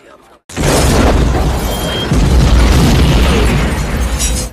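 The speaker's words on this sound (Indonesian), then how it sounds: "pesawat itu pun langsung melepaskan sebuah rudal dan meluluh lantahkan semua orang-orang yang ada di sana" A missile fired from a fighter jet strikes its target in a film, a sudden loud, sustained explosive roar that follows a brief quiet and rumbles heavily for several seconds with no speech over it.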